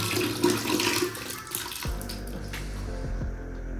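Blue water runs from a tap in a loud, splashing stream for a couple of seconds, then cuts off. A low, steady hum and a few faint drips remain afterwards.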